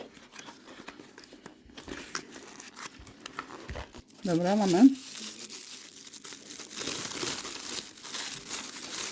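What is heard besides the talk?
handling and crinkling sheets of paper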